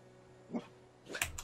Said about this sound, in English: What are you alert barking me for?